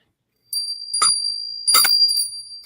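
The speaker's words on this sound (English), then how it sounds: "I have a little bell. I clear things." A small handheld bell rings during a live tarot session, giving two bright tinkling strikes with a steady high ring lingering between and after them, close and clear with no voices.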